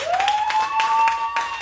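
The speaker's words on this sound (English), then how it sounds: "can we give God a great round of applause for the word?" A church congregation at a Sunday service applauds, a dense wash of clapping heard alongside a sustained electronic tone or feedback whine.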